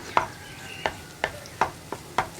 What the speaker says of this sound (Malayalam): ഇനി ഇതുപോലെ ഒന്ന് ഇളക്കി ഒന്ന് മുട്ട സ്ക്രാമ്പിളായി വരുമ്പോൾ നമുക്ക് എല്ലാം ചേർത്ത് ഇളക്കി മിക്സ് ചെയ്തെടുക്കാം